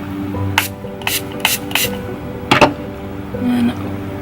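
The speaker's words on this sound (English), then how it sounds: "I'm going to take my setting spray. I'm going to wet my sponge." Several short hissing sprays of makeup setting spray onto a makeup sponge repeat at an even pace, followed by a quick double burst, with faint handling noise between.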